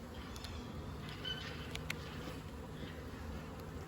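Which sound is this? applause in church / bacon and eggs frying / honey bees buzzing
honey bees buzzing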